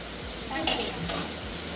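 Fish sizzles in hot oil in a pan during an outdoor neighborhood picnic cookout, a steady close crackling hiss with scraping stirs and the clink of a utensil against the pan.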